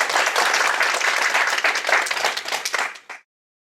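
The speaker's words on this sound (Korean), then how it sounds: "다시 한번 박수 부탁드립니다." Clapping from an audience at a company open house event, brisk and close, tapering off and stopping abruptly near the end.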